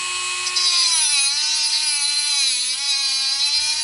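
A Milwaukee cordless tungsten grinder with adjustable speed and a 1/8 inch collet runs steadily at high speed, giving a constant close whine with a slight dip in pitch partway through.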